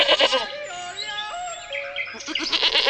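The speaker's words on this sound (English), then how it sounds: "The chamois is a type of goat that lives in the mountains." A chamois, a mountain goat, bleats in a long wavering call, loud and close, with short bursts of other sound before and after.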